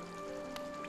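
Rain falls in a steady, soft patter, with the odd louder drop, over a sustained tonal hum in the background.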